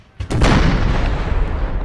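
Cannon artillery fire in a Napoleon Total War American Civil War battle: one heavy boom hits suddenly, then a dense, rumbling roar of battlefield noise carries on loudly.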